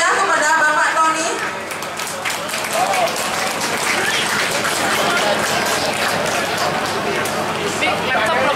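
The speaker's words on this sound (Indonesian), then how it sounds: "Kita beri aplaus yang meriah kepada Bapak Tony." An audience at an event in a hall welcomes the speaker Bapak Tony with sustained applause, a wash of many clapping hands mixed with crowd murmur and some voices, steady and moderately loud throughout.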